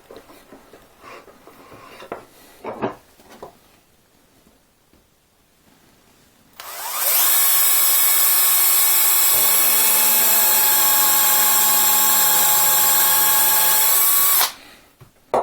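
Bosch EasyImpact 12 cordless drill set to drilling mode, spinning up into a loud, steady whine that holds for about eight seconds, its pitch dropping slightly partway through as the bit bites, then stopping abruptly.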